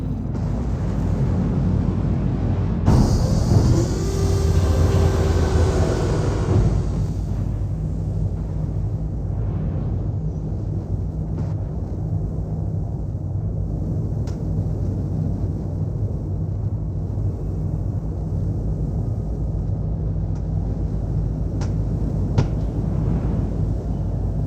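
Aegis Eclipse ship descending to land at Lorville on Hurston in Star Citizen, a loud rushing burst of thrusters around the third to seventh second that settles into a steady low engine hum and rumble.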